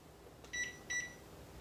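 A kitchen timer set for six minutes beside a pot of boiling potatoes gives two short, quiet electronic beeps in quick succession against a faint room hush.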